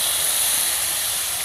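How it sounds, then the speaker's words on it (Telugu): Water is poured into a hot pan of snail curry, producing a loud, steady, close hiss of steam that fills the whole moment without pause. "ఇప్పుడు ఈ ముక్క ములిగేదాకా వాటర్ పోసుకోవాలి"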